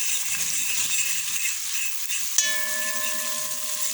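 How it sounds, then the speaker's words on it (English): Curry frying in a pan over a low flame gives a steady, close sizzle throughout, with a brief metallic clink partway through as it is stirred and no talking. "So I'm going to just put the curry now."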